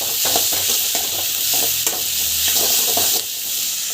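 Tomatoes being sautéed in a frying pan for an egg masala gravy, with a steady broadband sizzle and repeated scraping strokes of a spoon stirring through the pan, close and continuous with no voices.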